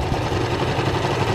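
A fan runs steadily during a quilting session, a continuous close broadband whir with a faint low mechanical hum, unchanging across the moment with no voices.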